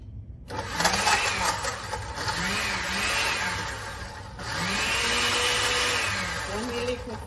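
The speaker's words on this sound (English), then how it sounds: "the blender on." A kitchen blender whirs steadily for several seconds, loud and close, its motor pitch rising and dipping as it liquefies a reggae-style food mixture, with no talk over it.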